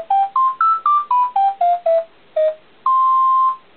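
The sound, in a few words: default town tune alarm from Animal Crossing Wild World video game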